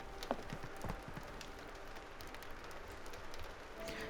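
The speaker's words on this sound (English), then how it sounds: "It's rainy today." Steady rain falls in the video game Sherlock Holmes The Awakened, a faint, continuous patter with scattered drop ticks and no voices.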